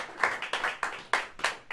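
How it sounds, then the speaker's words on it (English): A few bursts of clapping from a small audience at a jazz evening for Todd Coolman and David Hazeltine, distinct close claps in an uneven rhythm, thin rather than a full roaring ovation. "how about we give a warm round of applause for Todd Coolman and David Hazeltine"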